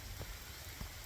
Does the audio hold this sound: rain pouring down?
yes